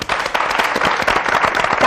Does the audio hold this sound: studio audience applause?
yes